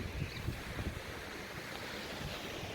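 Sea waves and wind at Hua Tan beach in Thailand make a steady, soft surf wash, with gusty wind rumbling against the microphone throughout and no voices.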